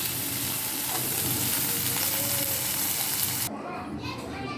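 Thoothuvalai leaves are sautéed in a pan with a continuous close sizzle and fry that drops off sharply near the end, and background voices are faint.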